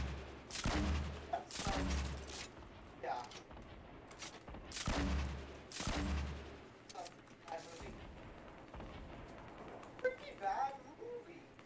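Gunfire in a battle royale video game crackles in repeated sharp bursts, some heavy and booming, scattered across the scene while several players talk over it.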